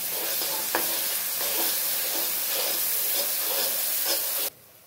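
Chopped onions with ginger paste stirred in a hot pan for a chicken and potato curry: a steady, close sizzle with repeated scraping stir strokes, cutting off abruptly just before the end.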